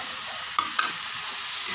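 Tomatoes frying in a pan for an Assamese-style masala fish curry: a soft continuous sizzle with two quick scraping stirs close by, no voices.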